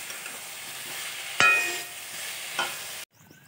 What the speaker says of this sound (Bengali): লবণ হলুদ দেওয়া হয়ে গেছে, এবারে তরকারির মধ্যে জল দিয়ে দেবো।